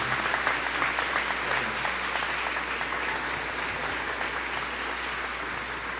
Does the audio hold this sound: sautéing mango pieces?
no